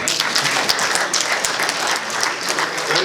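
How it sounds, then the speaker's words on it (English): An audience breaks into loud, dense applause at a daytime event session, many hands clapping steadily and close throughout without a break. "Please clap for us."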